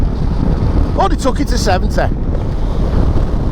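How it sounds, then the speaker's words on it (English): Strong wind roars steadily against a rider on a moving motorcycle with the visor down, a continuous loud rushing throughout, with someone talking briefly over it. "That wind is going right into me chops."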